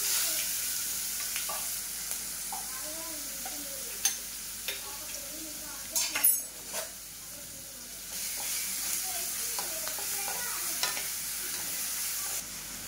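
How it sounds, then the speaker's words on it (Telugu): Green chilies, curry leaves, cumin, mustard seeds and dried red chilies sizzle in hot oil in a pan for lemon rice, a continuous close frying hiss broken by scraping stirs and a few sharp spatters. "పచ్చిమిర్చి ఈ యొక్క వాసన స్మెల్ పోయేంత వరకు బాగా వేగనివ్వాలండి"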